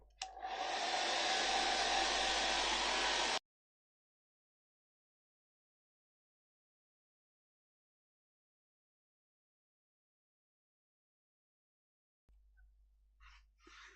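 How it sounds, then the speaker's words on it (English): A hair dryer blows loudly for a few seconds and cuts off, followed by a long silence and then faint shuffling. "I'll dry them with a hairdryer"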